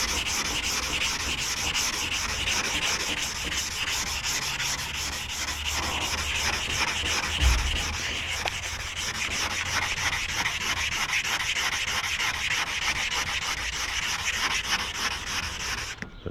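Steady, continuous wet sanding of primer on a car body panel during prep after bodywork on a 1983 vehicle, a close, rhythmic abrasive scrubbing that runs without pause and with no talk.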